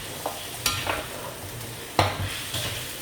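A spoon stirs thick mutton curry in a hot pan, producing close scraping strokes and a few louder clanks over a continuous sizzle, with no voices.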